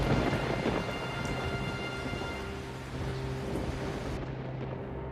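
Steady rain pours down with a low rumble of thunder underneath, heard at a moderate distance and quite soft overall.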